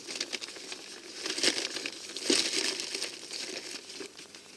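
A surprise parcel being unwrapped, with close crinkling and crumpling of packaging in irregular bursts, fairly quiet and without talk.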